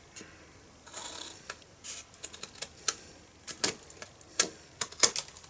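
Scissors snipping excess paper from the edges of a stamped card, a series of small, crisp, close cuts at an irregular rhythm, quiet and alone with no voices.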